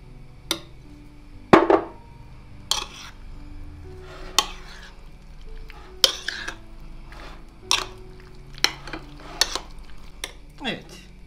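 Pasta salad mixed with a mayonnaise, garlic and yogurt dressing in a wide bowl: a utensil clinks and scrapes against the bowl in separate strokes at irregular intervals, close and crisp over a quiet background.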